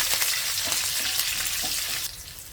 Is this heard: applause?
no